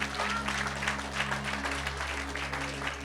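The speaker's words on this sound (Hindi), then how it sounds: "ताली बजा के प्रभु को महिमा दे।" A Sunday church congregation claps together in worship, a dense, even patter of hands over a steady low hum, with faint voices mixed in.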